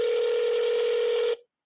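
A telephone ringing through a speakerphone gives a single steady electronic tone that holds for over a second and then cuts off abruptly; no voices.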